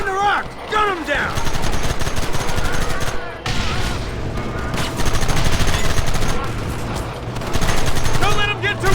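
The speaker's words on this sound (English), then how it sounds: "They're hiding behind the rock! Gun them down!" Dense bursts of gunfire in a Red Dead Redemption shootout, rapid overlapping shots cracking loudly for the whole stretch, with shouted voices and game sound effects mixed in.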